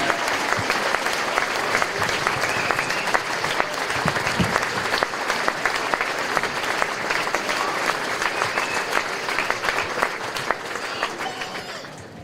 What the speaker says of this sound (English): Let's give our 5 new inductees into the Jim Garrison Hall of Fame a huge round of applause.